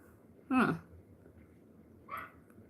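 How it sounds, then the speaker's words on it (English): A pet dog gives two short, high, shrill yips about a second and a half apart, the first louder than the second, against a quiet indoor background. "she gets a little irritable and decides she want to do a little bark that sounds just like a smoke detector"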